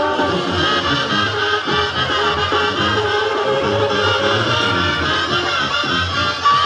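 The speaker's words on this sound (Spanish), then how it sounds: "El aplauso fuerte para él y para ese" Loud, sustained applause and crowd noise fill a jaripeo bull-riding arena in La Jabonera, a dense steady roar that holds for the whole stretch.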